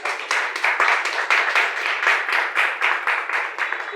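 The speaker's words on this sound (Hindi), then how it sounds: "एक बार जबरदस्त ताली जोर से बजा सकते हैं" An audience claps steadily, a dense run of close hand claps with no voices over it.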